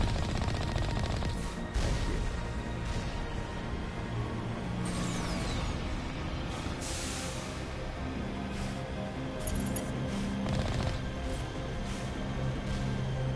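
Rapid gunfire rattles against a turret in Mass Effect 1, bursts of shots layered over continuous game combat noise and engine-like rumble, moderately loud throughout.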